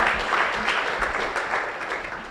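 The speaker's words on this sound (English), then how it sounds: "I'd like for everyone to give a round of applause to GGI" An audience at a launch event for the Greater Guyana Initiative's signature project claps in a steady, moderately loud burst of applause that runs without pause and eases slightly toward the end.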